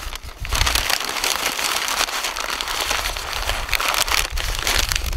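Butcher paper wrapped around pork and butter is crinkled and folded shut like a bag, a loud, continuous dense rustling and crackling close by with no voices.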